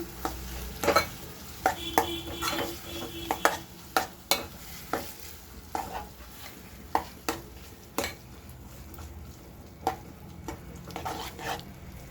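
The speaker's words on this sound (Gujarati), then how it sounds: "હવે આપણે બટેકાને મસ્ત રીતના મિક્સ કરી દઈશું" Boiled potatoes stirred and mixed in a pan for a sandwich filling: a spoon scrapes and knocks against the pan in a steady rhythm of sharp taps, close and clear over a faint sizzle.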